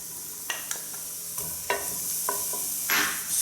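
Shallots or onions sauté in oil in a pan, a steady soft sizzle with several sharp clicks and scrapes of a utensil.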